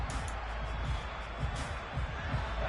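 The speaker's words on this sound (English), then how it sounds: "Crowd getting in it a bit already." Stadium crowd in an American football video game keeps up a steady roar with a surge of cheering, loud and continuous with no spoken words in the clip.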